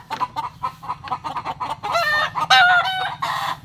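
Several fighting roosters offered for sale cluck and call in quick bursts nearby, with one longer crow-like call rising in the middle.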